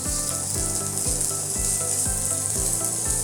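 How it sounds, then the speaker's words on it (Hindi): Grated garlic and vegetables sauté in hot oil in a pan, a continuous bright sizzle with faint rhythmic scraping of a spatula underneath, close and steady with no talking. "एक पैन में थोड़ा सा तेल गरम कर लेंगे और उसके अंदर गार्लिक और वेजिटेबल्स को सॉटे करना है हमें"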